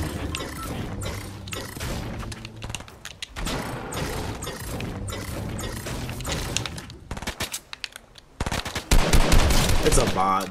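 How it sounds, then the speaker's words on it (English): Video game gunfire from a duo battle royale match rattles in dense rapid bursts, loud and continuous, with a brief lull before a heavier volley near the end. "Hear that burst shot?"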